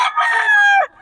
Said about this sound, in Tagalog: Ano to, stag? Stag mga idol kay Boss Ben